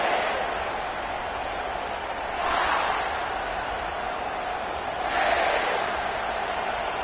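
Stadium crowd noise in the NCAA 25 college football video game, a steady, fairly faint roar of the crowd with two swells of rising cheer, sitting under broadcast-style commentary.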